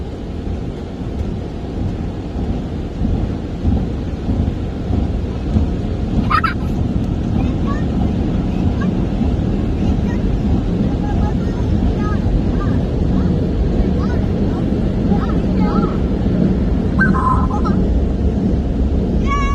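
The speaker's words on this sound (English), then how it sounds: "And now it says blower. It's going to dry us off." An automatic car wash blower dries a car, a loud, steady roaring rush of air heard from inside the vehicle throughout, with occasional voices talking over it.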